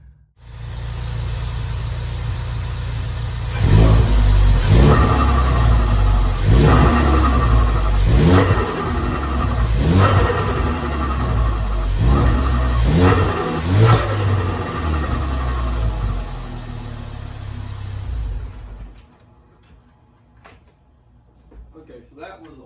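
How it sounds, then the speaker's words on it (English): A Ford Focus RS engine with a GFB DV+ recirculation valve revs repeatedly in sharp bursts, each followed by a fluttering release, before settling to a quieter idle; people talk over it at times. "Okay, so that was a lot more flutter."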